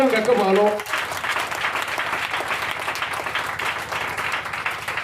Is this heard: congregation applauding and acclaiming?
yes